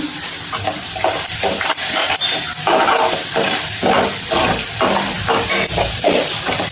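Loud, steady sizzling of tempering seeds frying in hot oil, with crackles and occasional stirring scrapes throughout.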